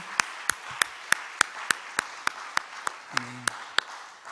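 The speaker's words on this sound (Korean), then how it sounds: "우리 하나님께 영광의 박수 올려드리겠습니다." A congregation at a Friday late-night prayer meeting claps in unison, sharp evenly spaced claps in a steady rhythm about three per second, with a brief voice briefly underneath near the end.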